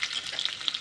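Garlic and asafoetida frying in hot oil in a pan alongside red chilli, a brief burst of close crackling sizzle with small pops.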